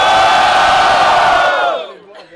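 A loud crowd roars and shouts together in a sustained burst of cheering at a rap battle in Cabo Frio, quickly fading out.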